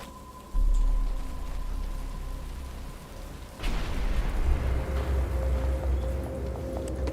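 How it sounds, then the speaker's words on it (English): Steady rain hiss in the video game Batman: Arkham Asylum, continuous throughout with a low rumble and a sudden louder surge of rain and wind about halfway, no talking. "But it's starting to rain."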